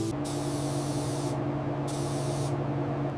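A spray paint gun coats a restored car in a steady, continuous hiss with a constant hum underneath, close and loud throughout, with brief shifts in the spray's airy top end and no talking.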